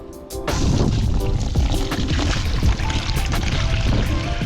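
Water gushes and splashes steadily into a container for mixing concrete, a loud continuous rushing pour that starts abruptly and keeps going.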